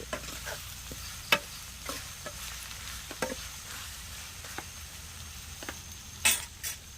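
Crushed shallots stirred and frying in a pan for Kerala fish curry, with a quiet steady sizzle, soft scraping strokes and occasional sharp clinks of a utensil against the pan.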